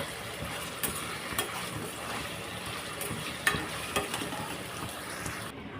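Paneer fries in hot oil in a kadai, giving a close, steady crackling sizzle with a few sharper pops and spatula knocks scattered through it.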